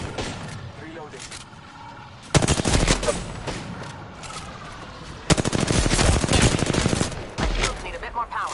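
Rapid automatic gunfire from a PS4 shooter game comes in several loud bursts, each lasting around a second, over a steady background of game ambience and a voice.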